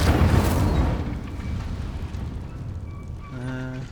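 A fire spell cast in Hogwarts Legacy bursts out as a loud, deep whoosh that fades into a rumbling roar, with a brief chime-like magical tone near the end.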